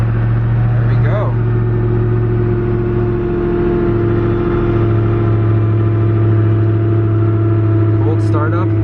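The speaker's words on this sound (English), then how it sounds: "Cold startup on the Agera RS1." Koenigsegg Agera RS hypercar engine at cold start, a loud steady low rumble with a brief rev near the start, running continuously and up close; a voice talks over it near the end.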